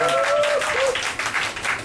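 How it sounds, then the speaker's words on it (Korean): A crowd claps in applause, a steady wash of hand claps, with a brief tonal sound near the start. "박수 한 번 부탁드리겠습니다"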